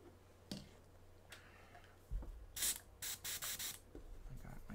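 Airbrush spraying shadow glaze paint in a series of short hissing bursts, several quick pulses in a row after a few soft clicks, close and fairly quiet.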